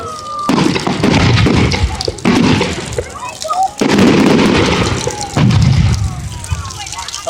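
Fireworks explode at a bonfire night display at Eirias: a run of loud, close booms and crackling bursts about every second or two, with crowd noise filling the gaps between them.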